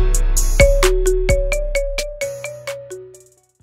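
Short marimba phone ringtone phrase: a handful of crisp mallet notes with a low bass tone underneath, loud and close, decaying to quiet at the end with no voices.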